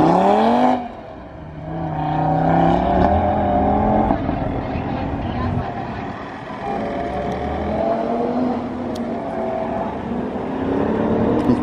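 An Audi RS3 runs an autocross course, its engine revving and droning loud and close as it accelerates, shifts and brakes between cones, with a steady whine throughout.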